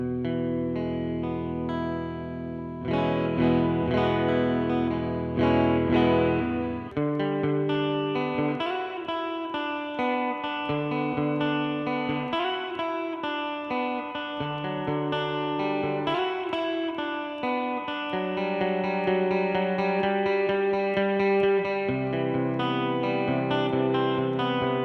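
An electric guitar with a Submarine Pickups SubSix hexaphonic pickup plays through a reverb effect, sustained chords and picked notes ringing out with a long wash of reverberation, moderately loud and steady with no voices.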